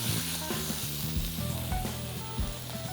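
Miso-marinated black cod sears in a hot pan with a steady close sizzle and crackle. A low droning hum runs underneath and no one speaks.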